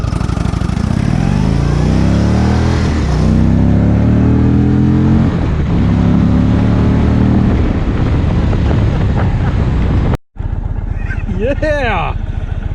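A 2020 Indian Roadmaster Dark Horse V-twin touring motorcycle engine roars steadily loud as it accelerates from a standstill, pitch climbing through gears, with a brief dropout near the end.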